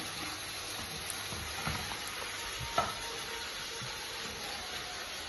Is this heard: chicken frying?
yes